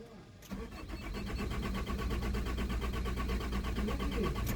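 A car engine cranks briefly, catches and settles into a steady, even running hum that continues to the end.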